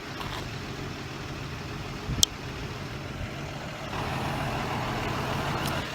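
Special education school bus with air conditioning idling, a steady low diesel rumble with a brief sharp click midway and a slightly louder hiss toward the end, no talk.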